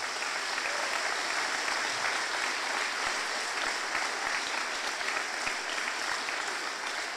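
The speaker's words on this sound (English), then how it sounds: "ask for a round of applause for their amazing" A theatre audience gives steady applause for the Millrace Drama Group's All-Ireland win before a Killinkere Drama Group play, dense and even throughout.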